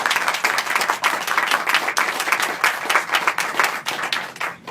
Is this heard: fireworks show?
no